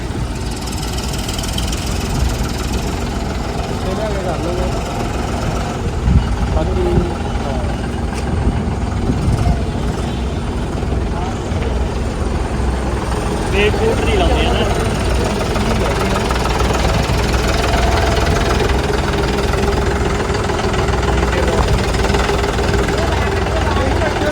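A new John Deere 5210 tractor engine runs at a village gathering, a continuous low diesel rumble that holds steady throughout, with background crowd chatter and voices layered over it.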